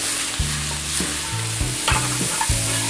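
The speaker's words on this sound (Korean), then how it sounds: "베이컨이랑 마늘이 색깔이 어느 정도 나면 여기에 브로콜리 데친 거랑 다진 거 한꺼번에 이렇게 넣어주세요." Bacon, garlic and blanched broccoli sizzle steadily in a pan, with several sharp low clunks of stirring or ingredients being dropped in over a constant loud frying hiss; no talking.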